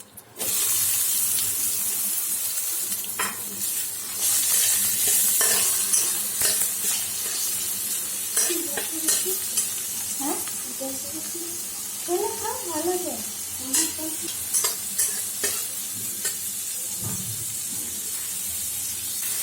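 Chopped tomatoes fry with curry leaves in a pan for Maggi noodles: a steady, bright sizzle and hiss with occasional stirring scrapes, while a person talks over it intermittently.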